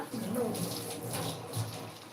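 Water splashes and pours steadily for a couple of seconds into a cooking pan of ivy gourd stir-fry, a soft continuous trickle close by.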